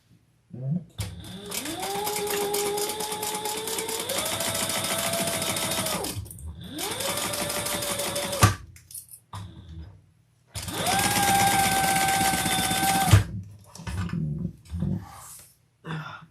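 A sewing machine top-stitches a fabric lining on a custom order, running loud and close in three long steady bursts with short pauses and handling noises between them.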